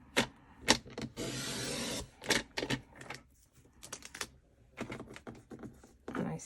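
Scissors or a trimmer cutting cardstock while making a scrappy card, a series of short sharp snips and clicks with one longer rasping slice, close and fairly quiet.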